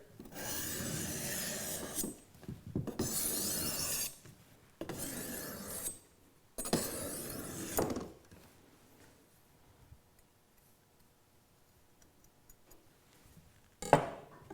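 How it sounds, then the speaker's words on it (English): A kitchen knife is drawn across a flat sharpening stone in four long rasping strokes, each lasting one to two seconds, followed by near silence and one brief sharp scrape at the end. "I'm going to use my flat sharpening stone here."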